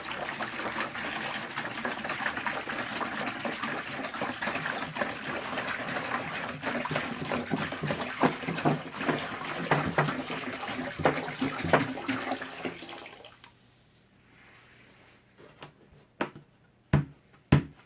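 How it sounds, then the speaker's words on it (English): Distilled water pours steadily from a jug into a bucket with a gushing, splashing sound that stops abruptly, followed by a few hollow knocks and clunks. "we're going to add some non-chlorinated distilled water to our bucket"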